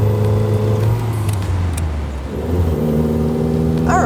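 A Lotus Elan's engine dips during a quick shift into second gear and then pulls hard again, a loud close-up rising drone from inside the car.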